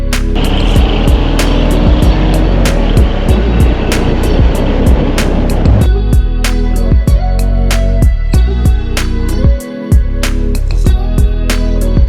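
A Mercury Comet GT rebuilt after a fire drives on the street, a loud rumbling engine and road roar with repeated sharp knocks and clicks, easing into a quieter, choppier stretch partway through.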